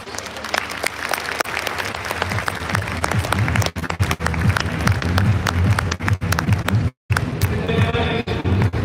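Loud applause at a DXN leadership camp in Dubai, continuous clapping with a brief pause near the end, close and full, mixed with some low thumping and crowd noise.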